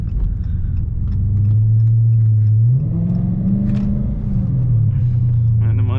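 A modified Dodge Charger R/T in sport mode drives along with a deep, loud engine rumble that swells as it accelerates and then eases off, with a voice speaking over it.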